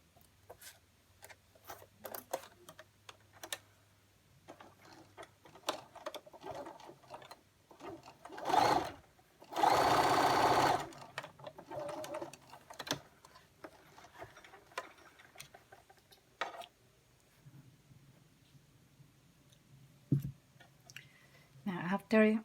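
A sewing machine stitching the lining of a fabric face mask, a steady mechanical whirring run of about two seconds amid quieter handling clicks and intermittent talk.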